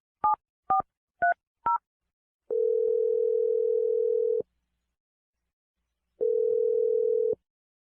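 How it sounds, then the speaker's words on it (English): Four short touch-tone dialing beeps in quick succession, followed by two long steady ringback tones separated by a pause, from a telephone calling a number; clean and alone with no voices. "We're going to dial Ryan's phone number and try and get your second date"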